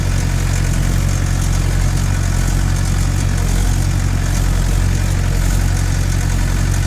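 A 2000-model Mahindra 575 tractor engine runs at a steady idle, a loud, close, even diesel thrum with a constant low throb and no talk over it.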